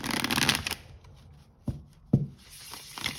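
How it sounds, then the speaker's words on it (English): A Buffy the Vampire Slayer tarot deck is riffle shuffled up close: a rapid fluttering cascade of cards, then a pause and two sharp snaps as the halves are bridged back together. "Just gonna riffle shuffle it."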